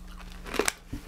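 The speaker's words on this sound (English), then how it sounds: "Whoa, it's crunchy AF." Someone chewing hard, crunchy roasted country lentils, a few sharp close crunches and bites heard up near the mouth, with a brief voice at the end.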